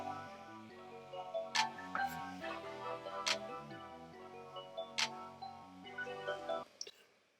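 A programmed drum beat plays back in FL Studio, with crisp, evenly spaced hits and sharp cymbal-like accents over a repeating pitched bass pattern, clean and steady for several seconds before cutting off.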